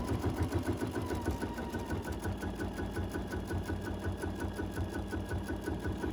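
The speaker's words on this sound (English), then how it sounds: "I'll get quilting and to the bottom of this row" A computerized quilting machine stitches an edge-to-edge design across a fairly thick quilt held in a hoop, running with a loud, steady, fast mechanical rhythm that holds for the whole stretch, with no voices.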